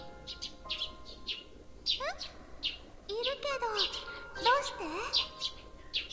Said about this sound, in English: can I turn the birds down?